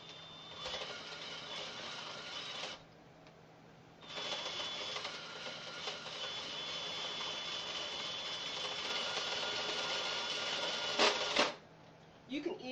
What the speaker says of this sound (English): We're going to crank out 100 rows circular knitting.